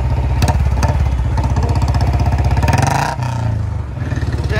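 A 2007 Royal Enfield Bullet Electra 5S engine runs close by with a loud, steady thumping beat, briefly easing off mid-clip before settling back into its rhythmic idle, with no talk.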